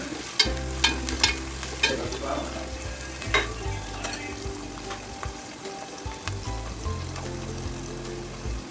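Curry leaves, onion and green chilli sautéing in a pan for chicken gravy, loud sizzling with repeated scraping and clattering of a spatula stirring close by.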